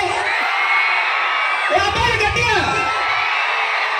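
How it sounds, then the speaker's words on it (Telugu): A crowd whooping and shouting in a burst of excited yells over steady background noise, loud and fairly close. "కాదు పండు, ఇంత అరుస్తున్నారు కదా,"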